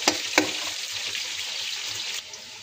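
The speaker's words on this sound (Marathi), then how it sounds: "फ्राय होऊ द्यायचा कांदा आणि लसूण" Onion and garlic fry in a pan with a steady, bright sizzle, and a couple of quick stirring scrapes near the start, with no talking.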